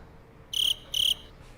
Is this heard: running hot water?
no